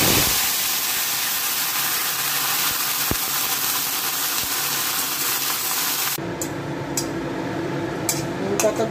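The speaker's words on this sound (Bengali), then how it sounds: "তেলটা গরম হয়ে গেছে, এবার নিম পাতাগুলো ভালো করে ভেজে নেব।" Neem leaves fry in hot oil, giving a loud, steady broadband sizzle that fills most of the stretch before dropping to a softer crackle with a few sharp spatters near the end, with no voices.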